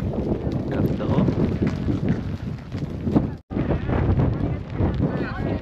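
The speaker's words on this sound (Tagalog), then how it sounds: "Grabe pala yung hangin dito" Steady, blustery wind at a lakeside campsite in Kananaskis buffets the microphone throughout, a low rumbling roar with a brief dropout midway and a few voices faintly underneath.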